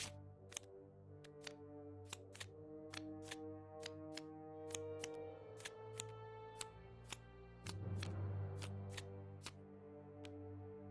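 Card deck shuffling in Tabletop Simulator, a rapid series of crisp clicking ticks over a steady musical backdrop.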